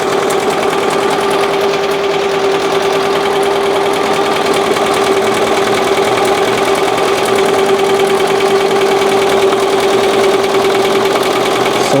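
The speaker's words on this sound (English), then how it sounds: "Here comes the satin stitch." A BAi Vision embroidery machine runs a satin stitch, giving a loud, steady rapid mechanical hum and vibration with no pauses, close up and without speech.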